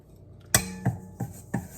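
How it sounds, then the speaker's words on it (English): A KitchenAid bread paddle stirs dry bread ingredients in a bowl, giving four separate knocks and scrapes of utensil against dish spread over about two seconds, fairly close and with no talking. "we give it a stir"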